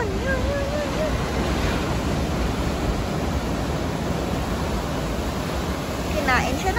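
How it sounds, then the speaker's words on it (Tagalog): Strong ocean waves rolling in at Burleigh beach on the Gold Coast on a winter day, a steady broad wash of surf with wind buffeting the microphone and faint voices in the background. "Ang lakas ng alon, guys!"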